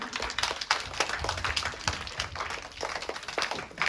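Children clapping at a school Children's Day celebration, a dense, uneven patter of many small hands, moderately loud and continuous for a few seconds without talk.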